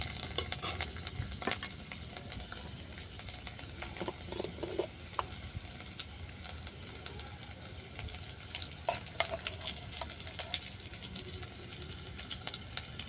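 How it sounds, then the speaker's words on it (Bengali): Garlic cloves being stirred and browned in hot oil give a faint, continuous sizzle with scattered scraping and clicking from a spatula throughout. "রসুনটাকেও নেড়ে চেড়ে বাদামি করে ভেজে নিচ্ছি"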